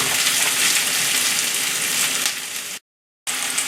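Chinese sausage slices fry in a hot pan with a steady, loud, dense sizzle that holds close and constant, drops away briefly into silence, then resumes.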